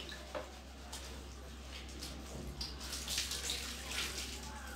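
Running water rinses freshly shampooed hair, a steady, moderately quiet splashing flow over a low constant hum.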